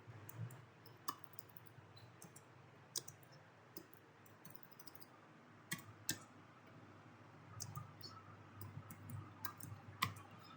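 Keys are tapped sparsely on a computer keyboard while entering data in an Excel spreadsheet, giving faint, isolated clicks with a few louder presses over low room hum.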